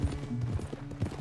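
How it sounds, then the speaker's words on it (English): Horse galloping in the Red Dead Redemption 2 video game: quick, rhythmic hoofbeats heard close and steady through the short stretch, with no talking. "just don't go too fast, alright? You don't wanna get bucked off your horse."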